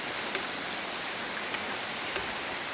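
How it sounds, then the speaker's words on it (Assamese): Steady, dense rainfall pours down continuously, with a few sharper drips standing out against the broadband hiss. No voices. "ইমান বৰষুণ দি আছে"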